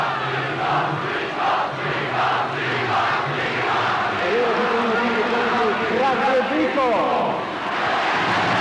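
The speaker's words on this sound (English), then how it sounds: "just listen to the applause ringing around the stadium" Stadium crowd roars and applauds steadily as Zico leaves the field in his farewell appearance for Brazil against a Rest of the World XI, a broad sustained ovation with some whistles rising near the end.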